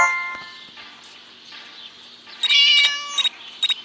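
A cat meows in the Scary Teacher video game, with a couple of longer calls followed by short, sharp repeated mews, clear and close over a faint game background.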